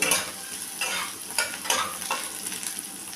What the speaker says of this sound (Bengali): পেঁয়াজটা ভাজবো পেঁয়াজটাকে ভেজে নেব